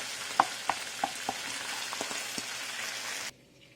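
Hakka-style chili chicken frying in a pan, with a dense steady sizzle and a few sharp spatters near the start. The sound cuts off abruptly near the end.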